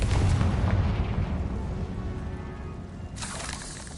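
A Confringo fire-spell explosion in Hogwarts Legacy lands as a heavy booming blast with a rumbling low tail that slowly decays. A sharper, brighter second burst cracks in near the end.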